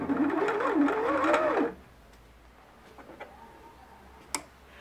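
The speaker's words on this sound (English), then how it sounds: "we depress the foot pedal and turn some thread onto the bobbin, making sure the thread stays in the tension button" Sewing machine in bobbin-winding mode, needle gears disengaged, running steadily with a whirring mechanical hum for under two seconds before stopping, followed by quiet with a few faint clicks.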